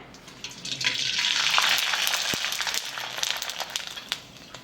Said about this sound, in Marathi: आपलं तेलही तापलेलं आहे आणि आपण आता तळून घेऊया